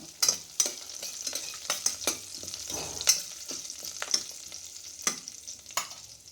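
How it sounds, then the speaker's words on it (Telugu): Mustard seeds, cumin and curry leaves temper in hot frying oil for a tomato and potato curry, a close, continuous sizzle broken by sharp crackling pops and scraping stirring clicks at irregular intervals, with no voices. "నూనె వేసుకుంటే ఆవాలు జీలకర్ర చిన్నపాయి కరివేపాకు వేసి"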